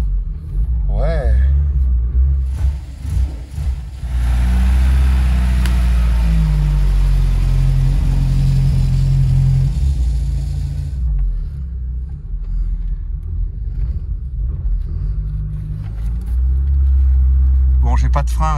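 A Porsche 924 Turbo engine rumbles close by as the car drives up and down a driveway, revving up and settling into a low steady growl, with brief voices at the start and end.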